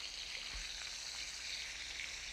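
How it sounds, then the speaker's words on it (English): Beef browning in hot fat in an uncrowded pan gives a soft, steady sizzle and faint crackle, fairly quiet and unbroken, with one low bump near the start. "It's mainly to give you the idea of the hot fat and not crowding the pan"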